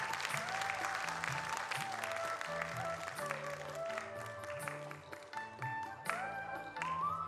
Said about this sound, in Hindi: इसीलिए इनकी धैर्यता के लिए भी जोरदार तालियां।